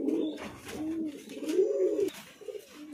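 Black Pomeranian pouter pigeons in a fancy pigeon loft coo close by, a string of low, throaty rolling calls that rise and fall with short pauses between them.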